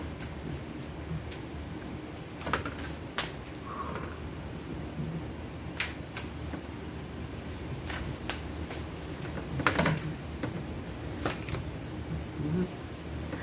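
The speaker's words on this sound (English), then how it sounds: "Let's shuffle." Two tarot card decks being shuffled by hand, soft papery riffles and slides close up with occasional sharper snaps and taps against a steady background hiss, no talking over it.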